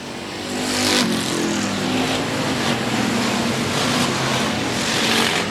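Stock cars racing side by side for position at Heart O Texas Speedway, a dense, steady engine roar with loud continuous revving and no breaks.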